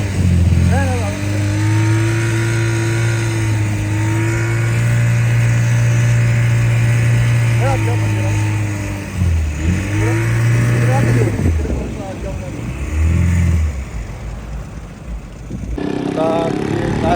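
A car engine drones loudly and steadily during a film-shoot driving scene, swelling in pitch with revs and dipping briefly near the end, while people talk nearby.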